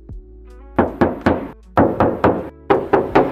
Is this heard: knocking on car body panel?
yes